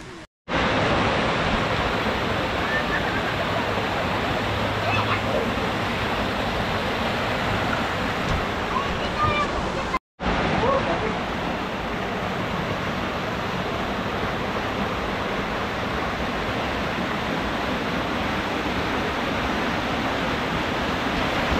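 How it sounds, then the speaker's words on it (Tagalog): A steady, dense roar of rushing water fills the scene continuously, loud and broadband, like a waterfall heard close by with no voices. "Naririnig na namin yung lagaslas ng tubig."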